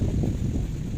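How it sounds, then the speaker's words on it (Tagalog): Steady low rumbling wind buffeting the microphone at Saud Beach, Pagudpud, continuous and fairly loud throughout, with no other distinct sounds. "Ang hangin na."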